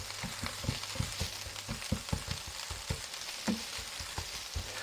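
Vegetables frying in a pan over medium-high heat for a vegetarian Sunday roast, a steady close sizzle broken by repeated stirring scrapes and clicks, with no talking.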